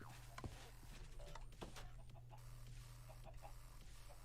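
Chickens in the Minecraft video game clucking in short repeated bursts over a steady low background hum, fairly quiet, with no speech.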